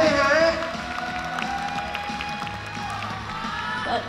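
Audience at a BNK48 idol event applauding and cheering for a member, loudest at the start and then settling into a steady backdrop of clapping, with voices speaking over it.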